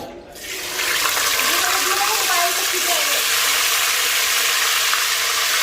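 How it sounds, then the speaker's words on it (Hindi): Oil is poured into a pan of cooking minced meat (keema) whose water has dried off, giving a loud, steady hiss and gush that carries on without a break. "अब मैंने इसमें तेल डालना है।"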